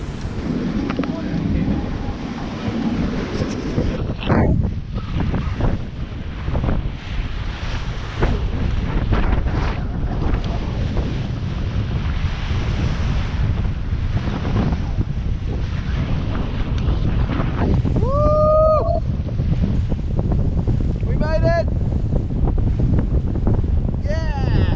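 Steady ocean wind buffets a sailboat at sea, with broadband rushing noise and wave wash throughout, occasional creaks and thumps from the boat, and a few brief high whistling tones near the end.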